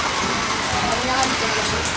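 Steady rain falls in a broadband hiss, close and fairly loud throughout, while a person speaks over it.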